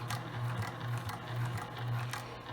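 A sewing machine stitches fabric for a homemade face mask, a steady low motor hum with a pulsing rhythm, fairly quiet and close, with no talking.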